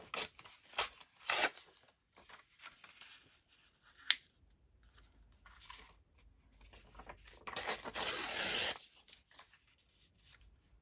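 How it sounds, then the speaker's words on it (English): Paper being torn by hand for a junk journal collage, a few short rips and one longer tear near the end, close and fairly quiet with soft handling noises in between. "I'll tear that off."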